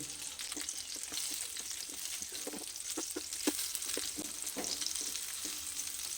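Food fries in oil in a frying pan over a medium gas flame, making a steady bright sizzle with regular light spatters and utensil taps throughout.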